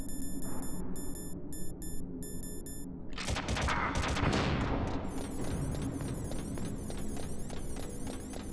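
Gunfire aimed at the player in the Metal Gear Solid video game, with rapid bursts of shots after a series of electronic beeps, then dense ongoing rattling fire layered over game sound.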